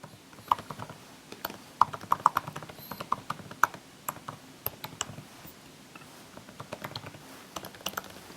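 Login details being typed on a computer keyboard: irregular bursts of crisp key clicks, close and moderately loud, with short pauses between runs of keystrokes.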